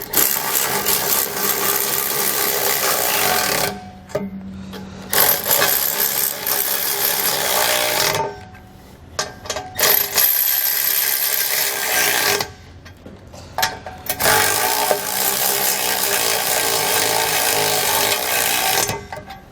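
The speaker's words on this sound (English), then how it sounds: "Now that we have all of our bolts started, we'll come back with a 19mm socket." Power tool with a 19mm socket snugging 5th wheel hitch bolts on a 2020 Chevrolet pickup, loud continuous whirring runs of several seconds each, separated by short pauses.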